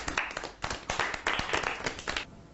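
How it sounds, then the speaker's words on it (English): A short burst of group clapping, several hands striking in quick uneven rhythm, close and fairly loud, ending abruptly. "let's clap for ourselves"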